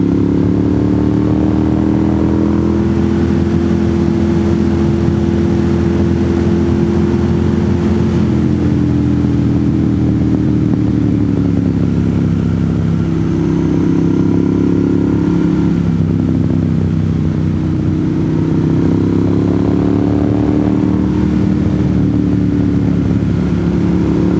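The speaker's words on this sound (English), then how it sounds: "I think we have a motorcycle coming up in front of us." A loud motorcycle engine on a North Georgia mountain road drones steadily throughout, its pitch rising and falling as it revs, close and continuous with no voices.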